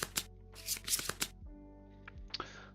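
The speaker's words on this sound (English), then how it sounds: "Shuffle these up." A deck of game cards for the Kingdom Death board game is shuffled close up: a dense riffle of crisp flutters followed by softer sliding and a final quick flick, with no talking.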